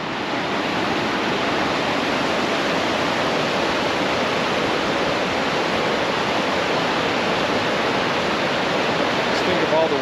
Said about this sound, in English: Just think of all the water rushing in here to move those big boulders.